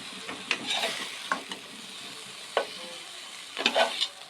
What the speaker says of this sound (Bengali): ব্রোকলিটা আমাদের ভাজা হয়ে গেছে।